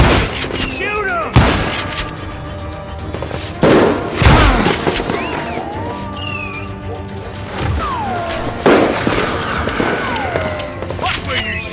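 Gunfire in the Call of Juarez Gunslinger video game: repeated loud shots and crashing impacts in sharp bursts through a busy battle mix, with game voices heard in between.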